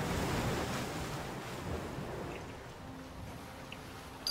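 Steady rushing ocean surf washes along a shoreline in the EverQuest 2 game world, a continuous broad roar with no voices over it.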